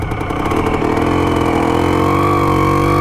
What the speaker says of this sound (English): It's almost like the idle might be a little bit low.